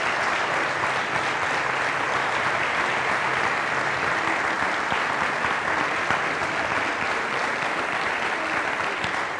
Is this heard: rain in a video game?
no